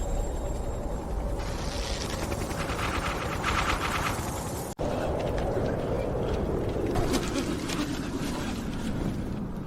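Heavy gunfire from an army shooting at a floating object in the sky: dense, loud, continuous bursts of shots fill the whole stretch, with a brief cut near the middle before the barrage resumes.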